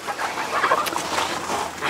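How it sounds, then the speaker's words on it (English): Black Australorp chicks in an indoor brooder peep and chirp softly together in a busy, continuous chorus, close by, with occasional louder cheeps. "this is currently where we have 10 black Australorp hens, pullets,"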